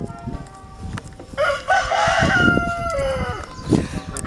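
A rooster crows loudly and close by, its drawn-out call rising and falling over a second or two, while hens cluck intermittently around it in a backyard flock.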